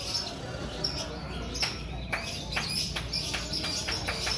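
Canaries at a bird market give short, high chirps and tweets in a scattered series, moderately near over a steady background of crowd murmur.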